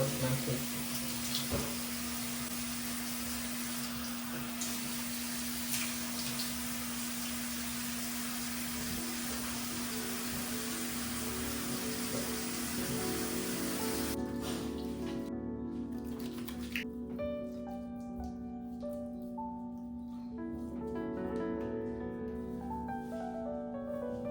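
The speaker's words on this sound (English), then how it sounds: "the first step I usually do is to wash my face" Water from a tap runs steadily into a sink while a face is washed, a soft constant hiss close by that thins out near the end into scattered drips and small splashes.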